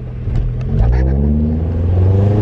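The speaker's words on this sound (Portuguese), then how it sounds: "Para de acelerar que nem louco." A car engine revving hard as it accelerates, a loud close roar with pitch rising steadily over a couple of seconds, heard alone.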